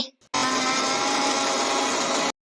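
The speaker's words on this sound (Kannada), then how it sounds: "ಅದಕ್ಕೋಸ್ಕರ ಈಗ ಮಿಕ್ಸಿ ಮಾಡ್ಕೊಳ್ಳೋಣ ಬನ್ನಿ" A mixer grinder whirs loudly and steadily for about two seconds after a brief faint start, then cuts off abruptly, grinding batter for Malnad sweet vade.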